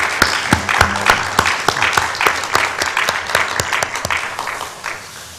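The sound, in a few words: church congregation applauding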